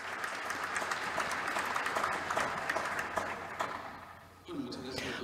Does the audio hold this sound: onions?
no